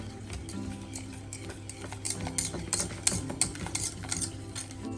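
Emmental cheese being mixed into a rarebit mixture, giving soft, quick clicks and taps of a utensil against a bowl in an uneven rhythm, fairly quiet and close, with no talking.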